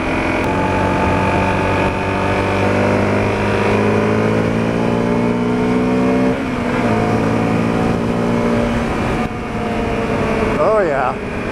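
Honda CRF250L dirt bike with its stock exhaust, held at full throttle so its harmonic engine drone climbs steadily, then eases briefly and climbs again, loud and close, with a person talking in brief stretches over it.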